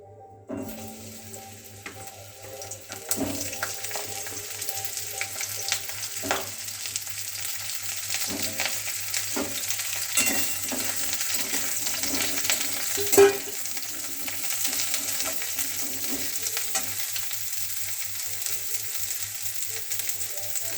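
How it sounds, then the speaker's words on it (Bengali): Pieces of pointed gourd (potol) hit hot oil and settle into a steady, close sizzle, with scraping stirs and small clinks scattered through a long, even stretch of frying. "তেল গরম হয়ে গেছে, ভেজে নেব পটলগুলো।"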